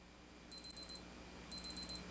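Citizen Navihawk pilot's watch alarm sounding two bursts of four quick, thin electronic beeps, a pause between bursts, clear and close over a faint background hiss.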